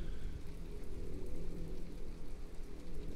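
Continuous storm rainfall in the From the Depths video game hisses evenly on surfaces, a dense unbroken wash of drops at steady loudness with no talk.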